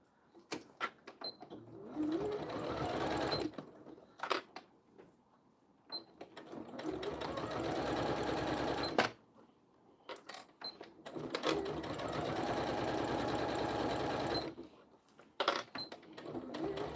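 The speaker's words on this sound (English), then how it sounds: "stitch along this edge as close to the zipper as you can" A sewing machine stitches a vinyl zippered pouch along the zipper edge in several bursts of steady mechanical whirring, separated by pauses with small handling clicks.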